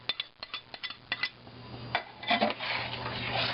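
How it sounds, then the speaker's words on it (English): A utensil stirs chopped eggs into cornbread dressing in a dish. A quick series of faint clinks and scrapes against the bowl is followed by a softer, mushier mixing sound. "I am going to stir my chopped eggs into this mixture of dressing now"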